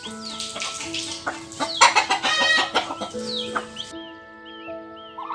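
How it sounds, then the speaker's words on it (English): Hens clucking at a chicken farm, many overlapping clucks and squawks rising to a busy peak before easing off, with a musical background underneath. "Chicken farm."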